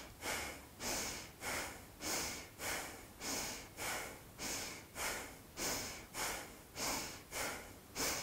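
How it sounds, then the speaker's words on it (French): Rhythmic forceful nasal breathing from a dynamic yoga breathing exercise, around fourteen sharp, evenly paced exhalations repeating roughly every 0.6 seconds, close and steady with no talking. "Et ici, respiration dynamique, c'est parti."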